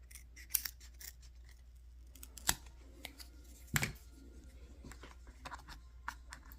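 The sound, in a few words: trimming an RC crawler body with scissors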